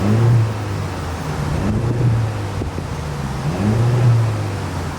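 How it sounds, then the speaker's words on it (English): A 2026 Mercedes-Benz E 350 sedan idles with a steady low exhaust rumble and a couple of gentle swells, recorded close to the tailpipe over some wind noise, with no talking. "As always, here is that exhaust clip."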